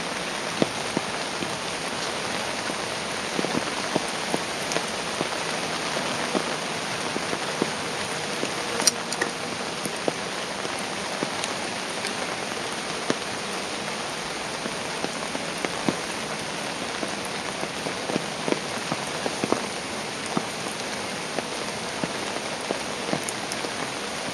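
Rain falls steadily outdoors in a continuous dense patter, with scattered sharper drops landing close by, and no voices over it.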